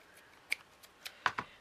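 Scissors cutting fabric for a round piece of a vintage bonnet, giving a few sharp snipping clicks at irregular intervals, close and quiet, with no voices.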